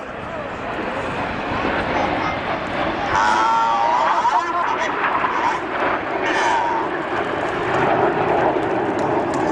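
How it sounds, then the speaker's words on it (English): Lone Red Arrows jet, Red 9, roaring past at the 2017 Wales National Airshow, a loud sustained engine rush swelling and easing, with commentary over it. "Here comes a lone jet, Red 9."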